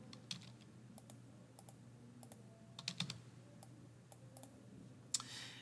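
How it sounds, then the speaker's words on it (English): Computer keyboard keys tapped in short irregular clicks and bursts, close and fairly quiet over a low steady hum, with no talking. "Maybe I should type that in."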